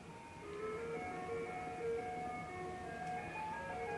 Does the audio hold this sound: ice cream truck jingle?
yes